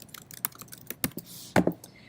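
Quick, uneven clicks of typing on a computer keyboard, close by, a short burst of keystrokes with no voices.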